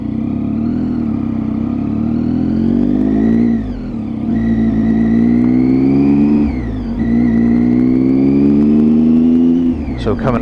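A new motorcycle engine while riding, steady and loud with rising revs through the gears, drops between shifts, and a constant droning hum.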